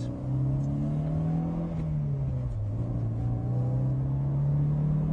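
A Mercedes 190E engine on a track revs hard and steadily, its pitch rising, dipping briefly at a gear change and climbing again, loud and close with no talking.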